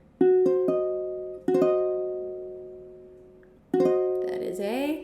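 Diminished piano chord, its notes struck one after another and then together, repeated three times with long ringing sustain; a brief voice cuts in at the end.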